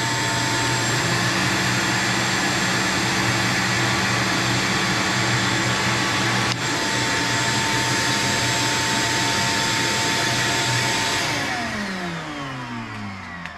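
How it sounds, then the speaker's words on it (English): A heavy-duty shop vac runs alongside a heat gun, both powered from a 12 V 100 Ah LiFePO4 battery: a loud, steady close-up motor whine and airflow roar that holds for about eleven seconds, then winds down. "Now I'm going to turn on a heavy duty shop vac."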